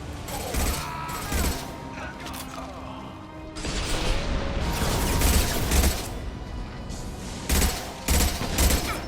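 Heavy gunfire in the Mass Effect shooter game, repeated bursts of weapon fire rising and falling over several seconds, mixed with mechanical clanks and squad members calling out between shots.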